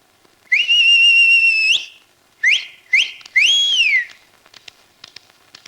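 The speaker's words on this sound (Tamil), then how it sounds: "விசில் அடிச்சு கிளம்புறதுக்கு நாங்க என்ன டவுன் பஸ்ஸா?" Shrill whistle blown as a departure signal, like a town bus conductor's: one long steady blast, two short chirps, then a longer blast that bends up and falls away, loud and close with nothing else heard.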